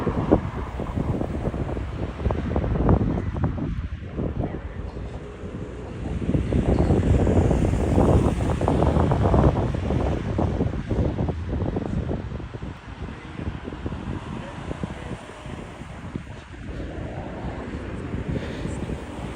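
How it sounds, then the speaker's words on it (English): Strong wind at Ponta Delgada, São Miguel, Azores, buffets the microphone continuously, a loud roaring rush that swells and eases in gusts with no other clear sounds. "It's still windy."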